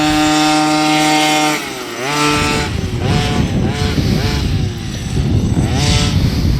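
A large 4x4 RC truck with an OBR 46cc 12hp gas engine and silenced pipe idles with a steady buzz, then revs up into a rough, rising engine drone that surges and eases nearby.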